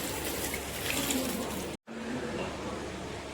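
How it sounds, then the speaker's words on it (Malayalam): A cup of water poured into a hot pan of chicken curry, giving a steady, loud rushing hiss that cuts out for an instant midway, then carries on at the same level. "ഒരു കപ്പ് വെള്ളം ഒഴിച്ചോ."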